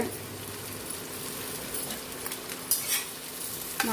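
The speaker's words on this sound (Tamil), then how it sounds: "ஆனியன் கொஞ்சம் நல்லா வதங்கட்டும்" Onions softening in hot oil while cooking millet noodles give a steady broadband sizzle, with light spoon-and-pan scrapes and clinks breaking through near the end.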